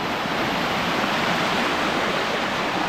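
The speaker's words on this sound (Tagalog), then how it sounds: "Ang lakas ang agos oh." Loud, unbroken roar of the strong current at Gabur Gabur Falls in Peñablanca, Cagayan, a dense close wash of rushing water filling every moment with no voices over it.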